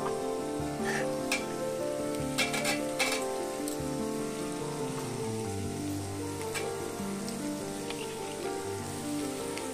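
Capsicum and carrot frying in a pan while making red sauce pasta, a steady soft sizzle and crackle with a few stirring clinks and scrapes, fairly quiet and continuous.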